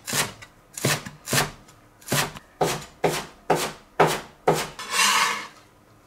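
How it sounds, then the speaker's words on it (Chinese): A kitchen knife chops fresh coriander on a wooden board in about nine crisp, evenly spaced strokes, close and fairly loud, finishing with a longer scraping sweep. "把香菜给它切碎"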